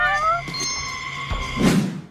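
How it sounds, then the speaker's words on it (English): A stray cat in the video game Judgment lets out a loud, drawn-out meow that rises and wavers over a steady background of game ambience, followed by a rougher second cry near the end. "every time you hear a cat cry out, it means that there's a stray cat in the area"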